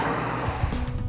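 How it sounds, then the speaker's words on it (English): A 1967 Ford Mustang rolls along the road with a low, steady engine burble and road rumble, close and moderately loud, with a few soft thumps toward the end. "From the burble of the engine to the bumps in the road"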